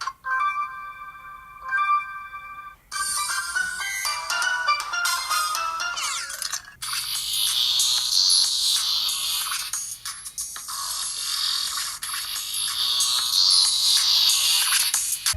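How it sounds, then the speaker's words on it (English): A BLU Vivo 5 Mini phone ringtone plays through its small speaker: a simple chiming melody first, then brighter, fuller electronic tunes, with no talking. "I'm going to play some basic ringtone."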